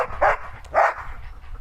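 Two sharp dog barks ring out close by in a farmyard where new turkeys and chickens have just arrived, spaced about half a second apart, followed by faint low background noise and no talking.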